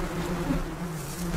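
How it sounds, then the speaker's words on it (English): Steady low insect buzzing drones throughout, close and continuous, like bees hovering nearby with no voices. "Bees."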